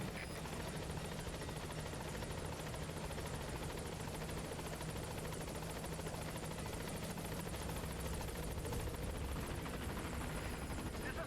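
Steady rotor thump and turbine drone of the Pequod helicopter arriving at a landing zone in Metal Gear Solid V: The Phantom Pain, a constant loud mechanical roar throughout.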